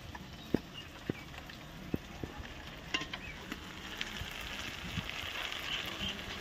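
Spice paste with chopped tomato and chili sautéing in a pan, a soft continuous sizzle broken by sharp taps and scrapes of a stirring spoon at irregular intervals.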